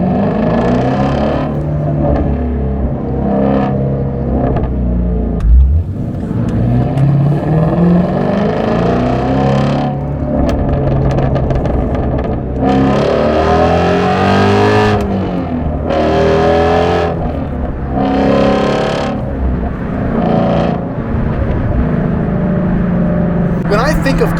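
A 526-horsepower 2017 Shelby GT350 on the road sounds loud, with repeated bursts of revving that rise and fall and crackling exhaust pops between the pulls.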